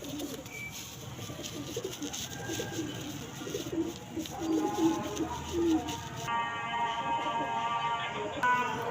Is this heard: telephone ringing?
no